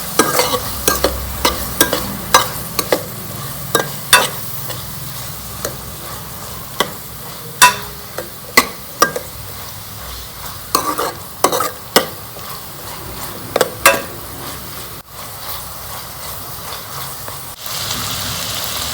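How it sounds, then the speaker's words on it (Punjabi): Two chopped onions frying and being stirred in a pan over tomato and chili for dhaba-style palak paneer, with a continuous sizzle and frequent sharp spatula scrapes and clinks throughout. "ਹੁਣ ਆਪਾਂ ਇਹਦੇ ਵਿੱਚ ਪਿਆਜ਼ ਪਾ ਲਾਂਗੇ ਕੱਟੇ ਹੋਏ ਦੋ ਪਿਆਜ਼ ਕੱਟੇ ਹੋਏ ਹੁਣ ਇਹਨਾਂ ਚੰਗੀ ਤਰ੍ਹਾਂ ਪਕਾ ਲਾਂਗੇ"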